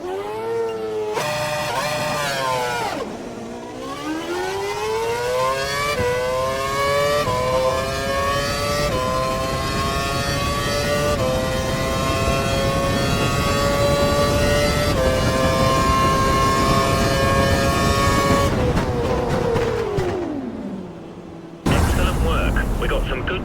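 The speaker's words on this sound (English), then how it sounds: "Head down the track accelerating past 160 miles per hour, then brake so that you come to a complete stop in the designated area" A Formula One car with its engine locked to a lean setting accelerates hard, engine pitch climbing in stepped gear changes past 160 mph for about eighteen seconds, then drops off sharply under braking toward a stop.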